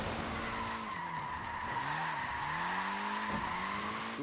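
A Mini's small tyres squeal and skid in the racing game Forza Horizon 4, with a sustained screech that bends in pitch over a humming engine, loud and close with no talk.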